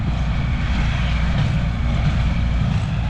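A farm tractor's engine runs with a loud, steady, low rumbling drone, close by and unbroken throughout.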